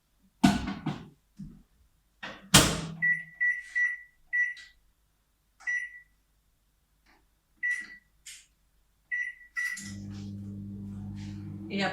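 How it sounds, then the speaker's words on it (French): A microwave oven set to 360 watts heats a Tupperware micro-cook dish of melted butter and chocolate. Short keypad beeps come in a rapid series with brief voice bits between them, then a steady low operating hum starts near the end. "je vais mettre le micro-cook au micro-ondes 2 minutes à"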